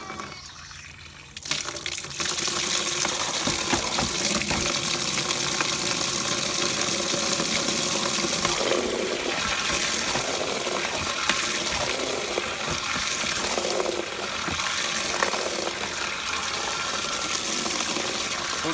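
Cold tap water gushes steadily into a tub being filled for soaking coyote hides, a loud continuous splashing rush that starts abruptly after a brief quiet moment and runs on unbroken.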